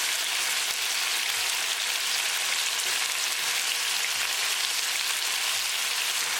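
Marinated chicken pieces for bell pepper chicken fry in a pan with a steady, dense sizzle and crackle that stays even and close throughout, with no talking.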